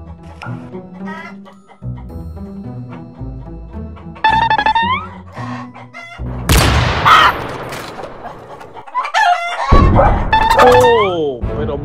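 Hens cluck and a rooster crows in a henhouse, sharp harmonic calls rising and falling in bursts over a busy, close mix, with people talking loudly in between.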